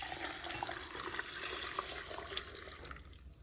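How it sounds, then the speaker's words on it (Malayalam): Water poured from a cup into a jar of salted raw mango pickle, a steady splashing and trickling stream that runs on without a break, close and moderately loud with no voices. "ഇങ്ങനെ ഈ കപ്പ് കൊണ്ട് നമുക്ക് വെള്ളം ഒഴിച്ചു കൊടുക്കാം."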